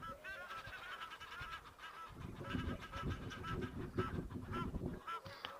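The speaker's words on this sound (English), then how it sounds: "See all those Egyptian geese making a racket just near to the elephants." Egyptian geese honk noisily near elephants at a wildlife waterhole, a continuous jumble of harsh, overlapping calls from several birds at a moderate distance.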